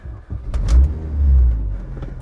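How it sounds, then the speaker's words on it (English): A car engine runs with flywheel rattle after clutch work: a low, rough idle swells and eases with a revving rise, loud and close, with some faint clanks above the rumble. "There's definitely flywheel rattle"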